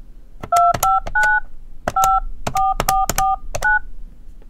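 Touch-tone keypad beeps ring out as a phone number is redialed, roughly a dozen clear dual-tone presses in short clusters with brief pauses between, close and distinct, with no voices.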